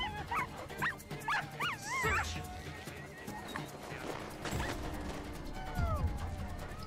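Search and rescue dog barking and whimpering during an avalanche training search for a hidden stranger, with someone speaking over it and outdoor noise.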